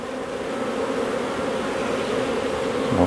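Honeybees hum in a dense, continuous buzz as brood frames are shaken over a hive, the swarm sound close and steady with a brief knock at the end.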